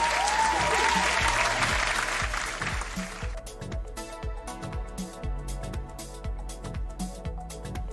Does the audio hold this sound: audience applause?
yes